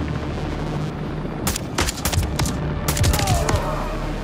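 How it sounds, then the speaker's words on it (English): Gunfire in the Call of Duty Modern Warfare video game, sharp bursts of shots cracking out in clusters over a constant low rumbling background, fairly loud, with some faint game voice present. "There's enemy fire."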